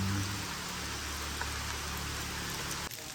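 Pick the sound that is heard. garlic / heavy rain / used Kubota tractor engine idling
heavy rain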